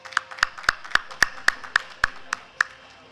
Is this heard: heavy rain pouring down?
no